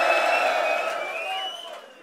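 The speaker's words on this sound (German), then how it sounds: "bitte nochmal einen riesen Applaus für unsere Special Guests heute Abend" A crowd at a freestyle rap contest in Dortmund cheers and whoops in a dense, noisy swell that fades slightly toward the end.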